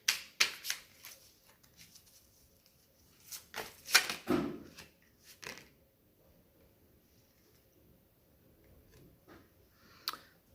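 A deck of cards shuffled by hand in a riffle of quick crisp flicks, then a few softer handling sounds and a single late snap, close and without talk.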